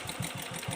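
A Royal Enfield Bullet motorcycle engine idles with a low, steady pulsing thump repeating about every quarter second, close and moderately loud, with no voices over it.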